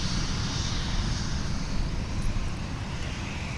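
A Korean Air Cargo Boeing 777 roars at an airport, a broad, steady engine rumble with airy hiss holding loud and constant.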